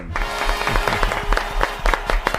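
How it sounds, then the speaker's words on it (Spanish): Audience applause welcoming Óscar Gómez on a Zafarrancho broadcast, clapping mixed with a brassy fanfare of rhythmic, sharp musical hits and a low sustained tone, fairly loud and close. "recibamos con un aplauso"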